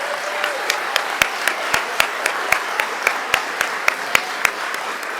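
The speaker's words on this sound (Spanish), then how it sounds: "Un fuerte aplauso para la doctora" At a departmental assembly ceremony honouring former health minister Carolina Corcho, the audience claps in rhythmic unison, sharp evenly spaced beats about four per second over a softer bed of scattered applause and murmur.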